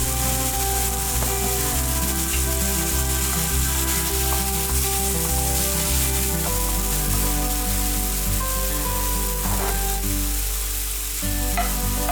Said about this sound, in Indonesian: Setelah jamur terlihat matang, tambahkan minyak untuk menumis bahan selanjutnya, yaitu bawang bombay.